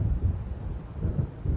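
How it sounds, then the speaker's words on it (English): Low rolling thunder from an approaching storm in the Alan Wake video game, a continuous deep rumble that swells and fades in waves, fairly faint and with no voices. "It seems there's a storm coming."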